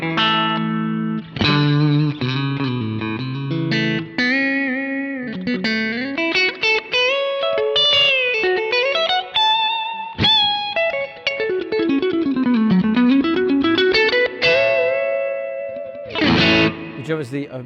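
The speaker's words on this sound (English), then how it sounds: "a reverb like that in stereo sounds really nice" Electric guitar through a VOX amPlug with heavy effects and a wide, washy stereo reverb, melodic lines sliding up and down and ringing out into a lingering tail.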